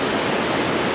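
Steady broadband rush of river water flowing near a footbridge on a lake hike, loud and continuous with no voices.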